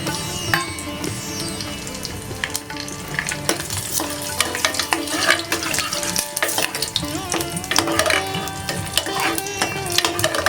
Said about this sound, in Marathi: तूप छान गरम झालेलं आहे, आता ड्रायफ्रूट टाकूया